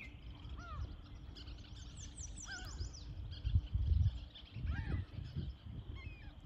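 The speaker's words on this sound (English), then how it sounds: "And the birds, they're all wound up. There's even seagulls." Seagulls and other birds call repeatedly near a large lake, their squawks and chirps scattered across the scene at moderate distance over a rumbling, windy outdoor background.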